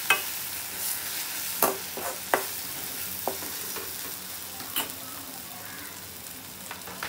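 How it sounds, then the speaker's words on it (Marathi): Eggplant bharit mixed in a pan over a low gas flame, a steady oily sizzle running throughout with occasional sharp scrapes and taps of the spatula, close and moderately loud, no talking. "आणि छान मिक्स करून घ्यायचं।"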